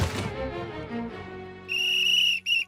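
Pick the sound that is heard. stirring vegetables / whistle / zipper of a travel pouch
whistle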